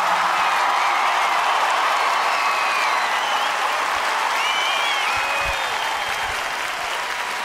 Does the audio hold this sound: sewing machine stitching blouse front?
no